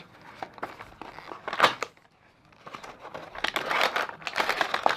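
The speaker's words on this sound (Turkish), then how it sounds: "Hemen hızlıca bir yeni paket şöyle açıyorum." Crinkling plastic of a new shipping package is torn open in close, uneven bursts of rustling and ripping, pausing briefly before a longer, louder stretch of tearing and crumpling.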